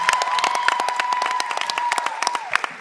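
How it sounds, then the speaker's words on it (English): At a pageant, a crowd claps for the contestants with loud, distinct individual hand claps in a lively uneven rhythm, mixed with cheering and a few shouts, fairly close and energetic throughout. "Let's give one more big round of applause to all of our contestants this evening."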